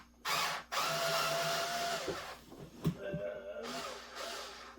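A power screwdriver or drill unscrews Phillips screws from the side of a refrigerator during thermostat replacement, whirring in two or three steady bursts with short pauses and a light clunk between them.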